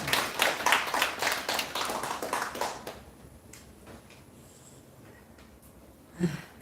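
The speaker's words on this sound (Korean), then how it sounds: "박수요." A church seminar audience claps in a brisk burst of applause lasting a few seconds, close and lively, then fades into a quiet room with a brief breath or shuffle near the end.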